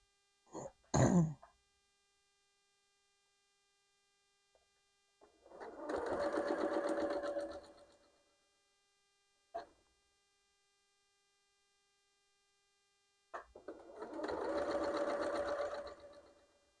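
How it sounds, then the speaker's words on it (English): A domestic sewing machine stitches an off-white fabric strip onto a quilt block in two steady whirring bursts of about two seconds each, close and fairly quiet, with a brief cough and small handling noises between them. "So it'll be like this, and I will sew that on."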